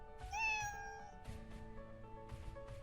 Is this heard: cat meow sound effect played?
yes